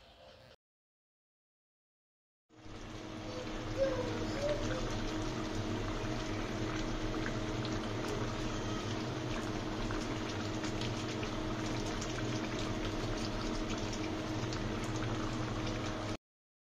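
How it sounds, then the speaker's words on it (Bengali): Fish curry gravy with rui fish and bhindi bubbling in a pan, a steady close boil of dense simmering and popping that starts after a short silence and holds evenly, with no talk. "ঝোলটা ফুটতে শুরু করেছে"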